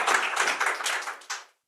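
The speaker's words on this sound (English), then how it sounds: "let's give a big round of applause for the panel" An audience at a climate week panel event applauds briefly, a mid-distance patter of many hands that tapers off and stops.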